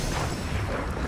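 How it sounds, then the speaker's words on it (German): A brief, dense booming rumble of an explosion in Assassin's Creed Odyssey, loud and broadband throughout the short moment. "Das wird auch gleich explodieren."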